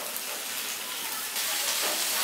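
Malabar spinach dropped into hot salted oil in a pan, giving a steady close hiss that surges louder partway through as the leaves hit the oil, no talking.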